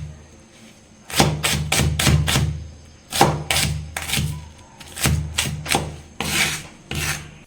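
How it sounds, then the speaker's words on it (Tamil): An onion being chopped on a wooden cutting board for a goat head curry roast: a series of quick, close knife thuds in three bursts, loud and clear with no talking. "இப்போ ஆனியன் வந்து பார்த்தீங்கன்னா கட் பண்ணிக்கலாம்."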